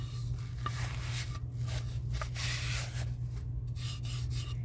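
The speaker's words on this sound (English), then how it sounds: "It needs to be sanded more." UV resin tray being sanded by hand, a soft rhythmic rasping with repeated strokes over a low steady background hum, faint and close.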